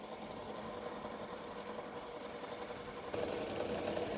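A sewing machine stitches a rhinestone shirt with a continuous, fast mechanical whir that steps up slightly louder and busier toward the end, heard close with no talking.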